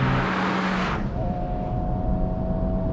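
A Honda Civic Type R or Hyundai Elantra N engine revs hard, then drops abruptly to a lower steady drone with a faint whine, loud and close throughout.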